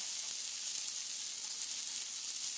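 Onions and garlic fry on low heat in smoked bacon grease in a pan, giving a steady, close, even sizzle with no talking.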